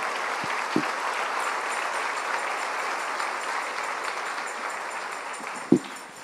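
A church congregation breaks into steady, dense applause, filling the hall as a continuous wash of clapping with a couple of louder knocks standing out.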